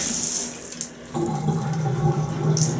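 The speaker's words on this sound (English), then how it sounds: "So the shower head actually does seem to work pretty decently." Water from a shower head in a vacation rental bathroom runs in a loud, steady hiss. It dips briefly near the start, then carries on unbroken.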